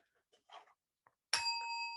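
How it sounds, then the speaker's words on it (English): A single clear strike of a Buddhist altar bell at a home altar during morning practice, a bright metallic ding that rings on with a sustained, slowly fading tone after some faint soft movement sounds. "the altar bell"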